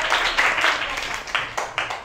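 Schoolchildren in a classroom clap together for a pupil during a language lesson, a brief burst of group clapping with several uneven pulses that fade and rise again.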